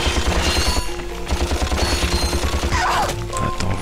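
Gunfire from a weapon in the Ratchet & Clank video game, a dense stream of rapid repeated shots and impacts over game music, fairly loud and continuous.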